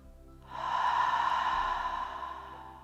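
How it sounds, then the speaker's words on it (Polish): One slow, breathy exhale through the mouth during a Kundalini yoga meditation rises softly, holds, then fades away, close and quiet with no talking. "Wydech przez usta."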